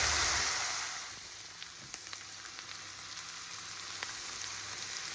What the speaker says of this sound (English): always try and brown your beef or whatever mince you're using when you're cooking these sort of recipes